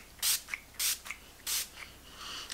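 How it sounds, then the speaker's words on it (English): A makeup fixing spray mists onto a face in three quick hissing bursts, close and fairly loud, followed by a softer, longer spray at the end. "It just says it's a fixing spray."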